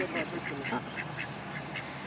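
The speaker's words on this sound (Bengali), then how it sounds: "pack pack pack pack pack pack করতেই আছে তো আমরা হাঁসগুলোকেও দেখতেছি" Ducks quack by a village pond on a morning walk, a rapid run of repeated nasal quacks at moderate distance with a voice audible alongside.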